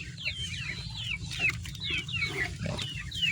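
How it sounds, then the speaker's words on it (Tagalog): Native chickens on a farm clucking and calling in repeated short bursts at moderate distance over a steady low background hum. "Ayan po yung mga native na manok ko dito sa bukid."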